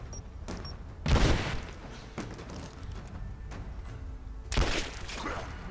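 Enemy gunfire in the Rise of the Tomb Raider video game, with two loud close bursts of shots and a few lighter cracks between them over a rumbling background.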